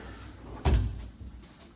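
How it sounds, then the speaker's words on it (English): Pocket door of a walk-in closet in a one-bedroom apartment sliding shut, a single soft thud with a brief rumble and bounce, fairly quiet in a still room. "So you've got a walk-in closet with a nice little pocket door."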